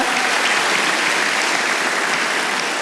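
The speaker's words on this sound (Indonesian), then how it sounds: "Tepuk tangan bagi Allah kita." A church congregation at a worship service bursts into applause, a thick, even roar of many hands clapping that holds steady and loud from start to finish with no talk.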